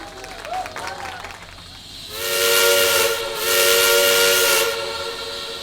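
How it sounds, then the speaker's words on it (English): Steam locomotive number 13 of the Dry Brook & Esopus Valley railroad sounding its whistle, two long, loud, hissing blasts at close range after quieter chuffing. "number 13 whistles off and departs for Dry Brook"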